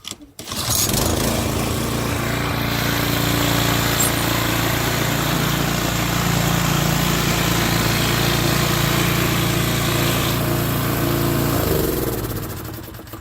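A Toro TimeMaster lawn mower engine runs loud and steady close by for about twelve seconds, a continuous buzzing drone that fades slightly at the end.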